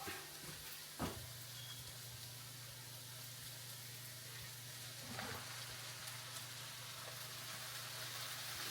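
Soya meat and noodles sizzling in a pan, a soft, low crackle under a steady hum, with a couple of brief stirring knocks and scrapes.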